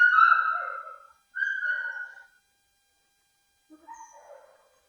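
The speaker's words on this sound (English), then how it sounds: "she's doing a little bit of whining, a little bit of barking" A dog whines with high, drawn-out cries, then after a quiet gap gives a few softer yips and whimpers, close by with no talking.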